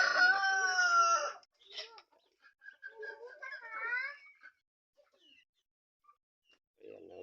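A rooster crows loudly up close, then scattered soft clucks and short calls from nearby Visayan native chickens follow with quiet gaps between them.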